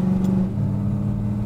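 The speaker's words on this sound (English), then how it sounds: "this has got one amazing exhaust system on it. Just makes this motor sing." Exhaust of a 1970 Chevrolet Chevelle restomod rumbles close and loud, a deep, steady engine note from a brief moment of driving.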